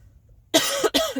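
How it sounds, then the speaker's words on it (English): Two harsh congested coughs close by, one right after the other, following a short stretch of near silence. "But I've started coughing and getting very congested and all of that."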